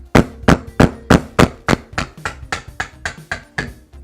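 About a dozen sharp, evenly spaced hammer blows ring out up close, driving a Phillips screwdriver into a coconut shell, gradually getting slightly softer.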